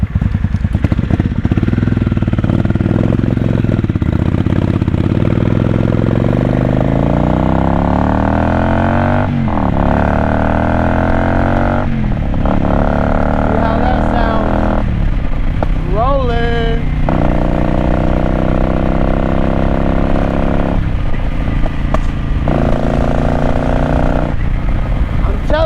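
A 750 motorcycle engine runs loud and close throughout, its tone rising and falling as it revs through gear changes while riding, with steady wind rush underneath.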